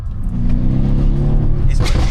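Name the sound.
Brabus E63S AMG 5.5 litre twin turbo V8 engine revving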